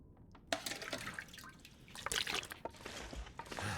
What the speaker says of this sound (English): take the toilet water.